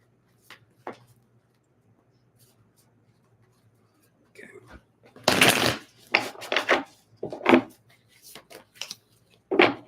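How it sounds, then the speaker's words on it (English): Tarot cards being shuffled during a live psychic reading, giving several bursts of crisp riffling and flicking that grow denser and louder in the second half, with quiet pauses and a low steady hum underneath. "One more shuffle here."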